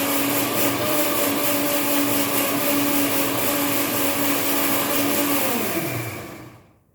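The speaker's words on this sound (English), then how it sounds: "Till then we'll grind our masala also." A blender grinds masala for a Goan drumstick curry, a loud steady motor whine running several seconds before spinning down and stopping at the end.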